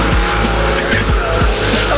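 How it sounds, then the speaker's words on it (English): Car doing a burnout on a San Francisco street, its tires squealing loudly over a continuous engine roar, with repeated sharp low thumps and a dense, close, unbroken noise. "Saw this idiot do a burnout."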